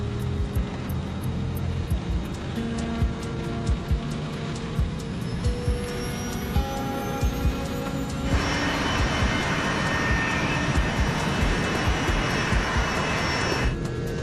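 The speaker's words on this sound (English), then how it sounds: "The crew taxis to the runway." Jet airliner engines whine and rumble steadily while the plane taxis to runway 12 in stormy weather, a continuous loud drone heard from inside the aircraft, with a brighter tone entering midway.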